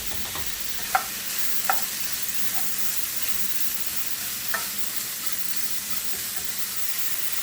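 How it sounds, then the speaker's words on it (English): Pasta cooking in a pot is stirred while it bubbles with a steady hiss, and a few light knocks of the spoon against the pot stand out, close and moderately quiet, with no talking. "you want to stir up our pasta"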